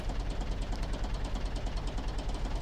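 Tractor engine in the farming video game Professional Farmer 2014, a steady low mechanical chug with a rapid, even knocking rhythm that holds constant and close throughout, with no talking over it.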